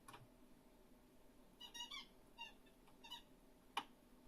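A squeaky toy gives several short, high-pitched squeaks in separate bursts, then one sharp squeak near the end, heard faintly against a quiet indoor background.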